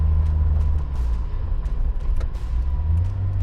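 A Toyota Corolla AE86 with its 1.6-litre 4A-GE four-cylinder engine, rated at 130 horsepower, running steadily with a deep, even rumble and a faint hum on top, close and constant.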